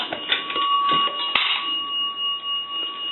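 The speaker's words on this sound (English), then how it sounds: "dimes are going to ring the bell twice" Two close bell strikes ring from an A&E three-slot chrome payphone as a dime goes in, each tone lingering and decaying over the quieter rattle of the coin mechanism.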